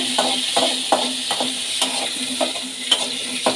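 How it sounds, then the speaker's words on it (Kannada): Water chestnuts frying with cumin and mustard seeds in hot oil, giving a loud, steady sizzle with rhythmic stirring scrapes about every half second. "ಈಗ ವಾಟರ್ ಚೆಸ್ಟ್ನಟ್ ಹಾಕೊಳ್ಳೋಣ. ಆಮೇಲೆ ಫ್ರೈ ಮಾಡ್ಕೊಳ್ಳೋಣ."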